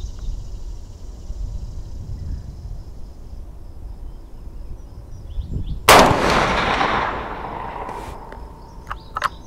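A single sharp .444 Marlin rifle shot cracks out about midway through a quiet outdoor stretch, then rolls into a fading echo over a background of faint insect chirping.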